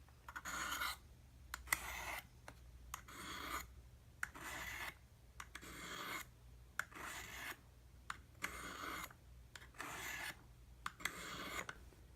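A knife drawn repeatedly across Spyderco Triangle Sharpmaker stones makes quiet, close rasping strokes in a steady rhythm, about a dozen in all, each separated by a brief pause.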